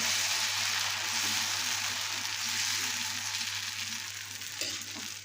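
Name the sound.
dosa batter sizzling on a hot pan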